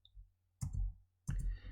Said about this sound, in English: we can either click run or we can press Ctrl Enter on the keyboard